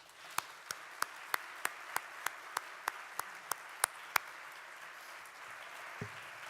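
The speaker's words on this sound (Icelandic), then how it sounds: "biðja ykkur að klappa duglega fyrir framkvæmdastjóra og starfsmönnum sambandsins" Audience applause for an association's director and staff at the opening of a national municipal assembly: about a dozen sharp, evenly spaced claps ringing out over a quiet hall, then fading.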